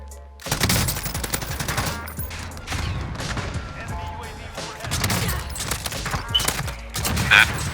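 Rapid automatic gunfire from the video game Warzone, dense loud bursts rattling almost without pause, with a voice mixed faintly underneath.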